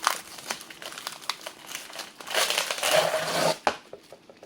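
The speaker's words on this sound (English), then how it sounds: "I'm going to stop talking for a second because the tape is loud." Packing tape peeled and torn off a cardboard package during an unboxing, a loud continuous crinkling and ripping that swells into a sustained tear, then ends in a few sharp crackles, close and with no talking.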